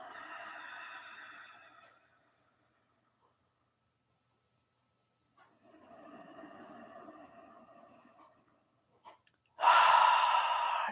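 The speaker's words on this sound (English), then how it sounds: "start to take a couple deep breaths here" Deep breaths taken during a Kundalini yoga class: two long, steady inhales or exhales separated by a silent pause, then a sharper, louder breath at the end, close to the microphone with no talking.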